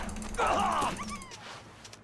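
A dog in the survival video game The Long Dark gives a short, strained whimpering cry that rises and trails off into fainter whines, heard close over a low game ambience.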